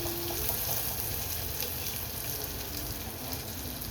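Cauliflower florets sizzle and fry steadily in a hot pan while being stirred, a constant close crackle with no talking.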